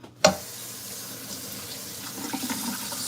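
Tap water runs steadily into a sink while food is rinsed under it, a constant close hiss of flow that opens with a brief clunk and picks up a little splashing toward the end.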